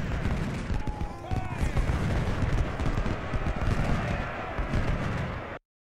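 A Civil War battle at Gaines Mill in Ultimate General: Civil War, with dense, continuous musket volleys crackling over deep, rolling artillery booms, loud and unbroken for several seconds before cutting off abruptly.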